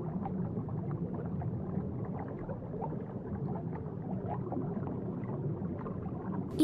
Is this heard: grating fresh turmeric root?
no